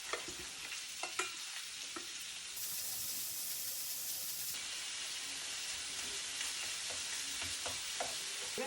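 Minced beef frying in oil in a pan gives a steady, close sizzle and hiss throughout, broken by occasional clicks and scrapes of stirring, with no voices.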